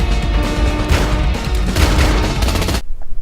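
Dense burst of rapid gunfire from a Mission Impossible 2 film scene, loud and continuous volleys that cut off abruptly near the end.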